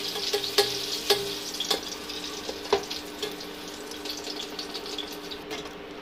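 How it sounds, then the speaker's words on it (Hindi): Garlic, green chillies and curry leaves frying in oil in a pan, a steady soft sizzle with sharp crackles and spatters, close and alone. "इसके अंदर डाल देंगे लहसुन, लहसुन को भी हल्का सा फ्राई कर लेंगे।"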